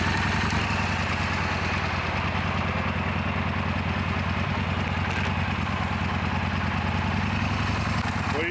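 Yamaha Bolt motorcycle idling in a parking lot, a steady low rhythmic engine thrum with a light clatter, close and continuous throughout with no talk.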